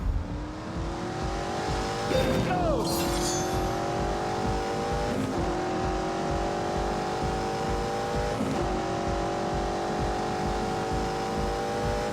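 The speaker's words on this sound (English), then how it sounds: "because of that V8 engine. It's smooth, it's quiet, it's unobtrusive, but then you just knock it down a few and give it a bit of shoe" A V8 engine in The Grand Tour racing game revs hard and climbs through gears, producing a loud, smooth, rising drone with sharp shift drops around two, five and eight seconds, tires briefly squealing; a voice shouts once early on.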